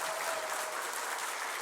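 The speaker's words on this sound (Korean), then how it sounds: "박수 한 번만 더 해주세요." A church congregation applauds during a Sunday morning worship service, a dense, even burst of many hands clapping at once without pause.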